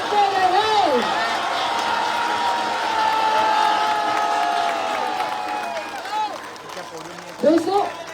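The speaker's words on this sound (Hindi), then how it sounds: "जोरदार जोशीली तालियां, जोरदार जोशीली तालियां।" A large audience at an AWPL business event in Gaya, Bihar claps and cheers loudly and continuously while an amplified voice shouts over the crowd noise.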